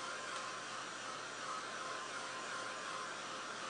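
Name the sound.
heat tool drying paint on a canvas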